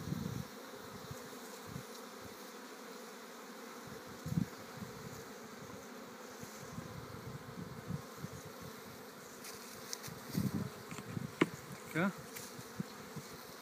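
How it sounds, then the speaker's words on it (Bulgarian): Honey bees swarm over a hive frame, a dense steady buzzing that fills the scene throughout, with a few louder passes and faint handling noises near the hive, and a brief quiet word spoken once. "рамка с пчели."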